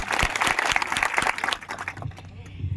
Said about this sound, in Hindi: तो ताली एक बार लगाएं।